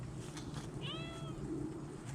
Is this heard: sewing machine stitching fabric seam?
no